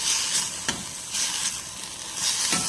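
Cumin sizzling in a hot pan while being sautéed, with a steady crackling fry and periodic stirring scrapes, close and moderately loud, no voices.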